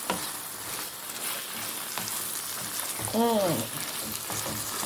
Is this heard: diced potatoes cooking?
yes